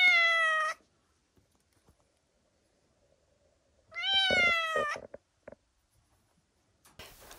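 Feral cats in Reykjanesbær, Iceland, give two drawn-out meows, close and clear, separated by a long quiet gap with a few faint clicks, and a third call just starting at the end.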